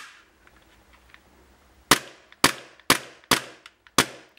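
A Tokyo Marui XDM-40 gas blowback airsoft pistol fires five sharp, snappy shots at a fast, fairly even rhythm, close and loud against a quiet background.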